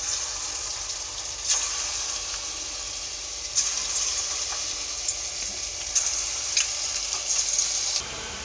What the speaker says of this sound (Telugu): ఇప్పుడు బోండాలు వేసుకుందాం చిన్న చిన్నగా.